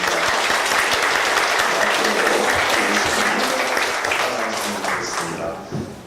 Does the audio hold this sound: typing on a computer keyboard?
no